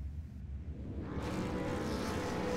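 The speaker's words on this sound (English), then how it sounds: "You can hear the revs are starting to rise for round 2 of the iRacing.com's V8 Supercars official online series" V8 Supercar engines in the iRacing video game, with revs building into a broad rising drone as the pack prepares to start, loud and growing, with no talk.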